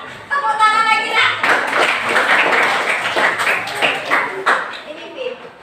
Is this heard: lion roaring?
no